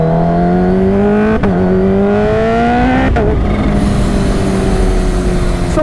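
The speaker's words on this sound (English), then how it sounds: "riding this super fast 350 horsepower Kawasaki Ninja H2?" A supercharged Kawasaki Ninja H2 motorcycle rides hard and revs loudly and close, its engine pitch climbing through each gear then dropping sharply at two quick shifts before settling into a steadier high drone over heavy wind rush.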